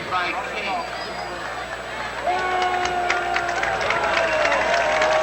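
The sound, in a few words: crowd applauding player leaving football field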